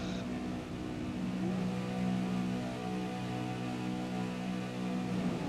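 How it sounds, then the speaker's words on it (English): Race car engines hum and rise in a sustained, layered drone as revs climb at the start of a V8 race on the Twin Ring circuit in a racing sim, steady and fairly loud with no talking. "Revs start to rise."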